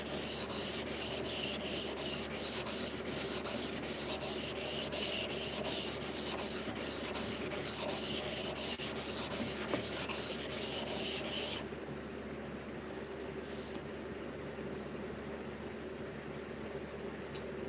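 A knife blade laid dead flat and sharpened on a 400 grit stone, a continuous close gritty rasping of repeated strokes that stops abruptly, leaving a faint quiet room tone.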